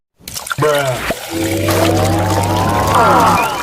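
Water is poured into a pot of raw rice for cooking. The splash is close and steady, and its tone rises as the pot fills.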